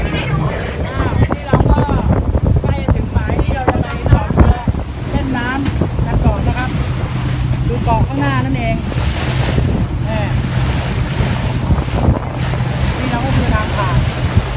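A boat rides a gently choppy sea while steady wind buffets the microphone and waves wash against the hull, a continuous loud rushing with faint voices underneath.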